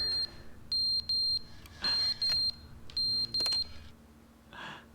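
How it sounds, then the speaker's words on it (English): A fire alarm rings in The Stanley Parable: Ultra Deluxe, a series of loud, piercing electronic beeps in evenly spaced bursts, broken by brief pauses and a softer rumble near the end. "Now the fire alarm?"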